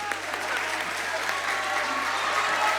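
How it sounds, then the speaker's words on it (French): An audience in a hall at a departmental school pleading-contest awards ceremony applauds the teachers, producing continuous, full clapping from a large crowd, steady and fairly loud. "Je voudrais aussi qu'on applaudisse"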